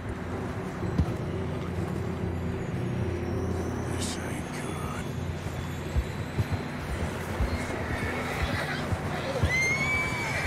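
A horse's whinny in Red Dead Redemption 2 rises near the end over dense, continuous rumbling noise and muffled hoofbeats, with indistinct voices mixed in.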